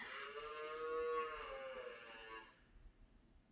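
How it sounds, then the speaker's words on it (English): A calf moos loudly and steadily for about two and a half seconds, a long drawn-out bovine call outdoors, then fades into quiet background noise. "there's a baby cow out there looking for its mother"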